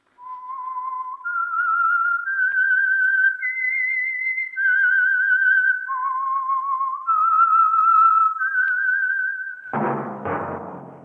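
A clear, solo whistled melody of sustained notes that step up and down, ending with a sharp burst of noise.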